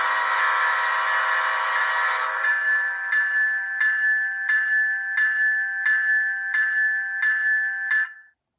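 A model locomotive's loud steady air horn blast sounds alone, then cuts off into a bright automatic bell ringing in an even, repeating rhythm, about nine strokes, before stopping.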